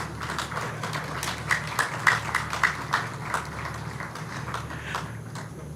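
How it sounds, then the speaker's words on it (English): A small audience at an aviation week event in Nigeria clapping for the ushers, with a loose run of claps that rises into a few sharper, louder ones in the middle and then fades. "Okay, clap again for the ushers."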